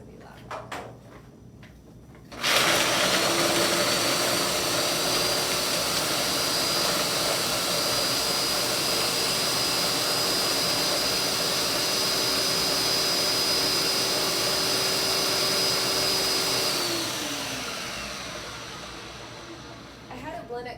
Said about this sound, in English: And then I'm gonna blend this up. It's gonna be loud.